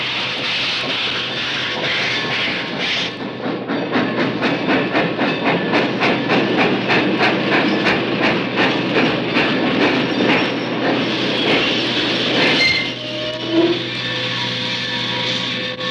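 A train rolls past with loud, rhythmic clickety-clack of wheels over rail joints, building and running steadily before fading, with a brief squeal near the end.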